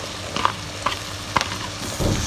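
Green peas tossed into gram flour and onions frying in a pan, stirred with a spoon that scrapes three distinct times over a low sizzle, ending in a soft thud as the mixture shifts; no one speaks.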